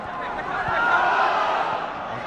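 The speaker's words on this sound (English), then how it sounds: "Here's the shout from the crowd below" Crowd at a Dundee v Celtic football match in a stadium, a distant roar of shouting that swells in the middle and then settles back into a steady murmur.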